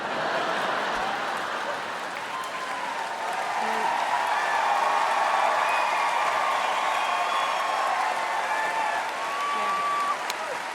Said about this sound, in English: They're clapping at anything